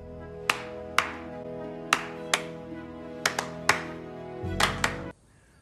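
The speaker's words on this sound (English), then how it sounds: "Are you slow clapping your own speech?" One person claps slowly and deliberately, about nine sharp claps spaced roughly half a second to a second apart, close and distinct over a quiet music bed that cuts off at the end.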